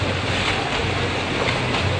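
Artificial waves churned up by film-set machinery and a barrel pumped up and down for a tsunami scene, giving a continuous loud surging wash of water with wind-like noise throughout and no voices.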